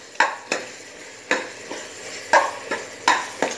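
Food being stirred in a pan while making pea rice: repeated scraping clacks of a utensil at an uneven rhythm over a faint sizzle.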